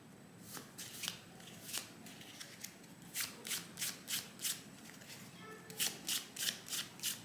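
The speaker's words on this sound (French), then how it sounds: "c'est ensuite de faire ça et d'attraper le paquet pour faire le run de 5 cartes" A deck of playing cards is handled through a false shuffle, giving quick riffling bursts in regular rhythmic groups. The bursts are close and soft, with no talk.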